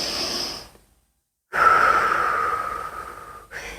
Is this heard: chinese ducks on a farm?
no